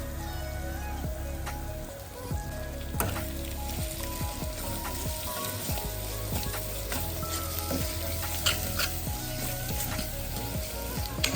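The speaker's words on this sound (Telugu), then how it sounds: "ఈ మసాలా ఇప్పుడు గోల్డెన్ కలర్ వచ్చే వరకు వేయించుకుందాం" Steady sizzling of masala spices with salt and chilli powder frying in hot oil for a Godavari-style fish curry, with scattered pops and occasional utensil scrapes, continuous and close throughout.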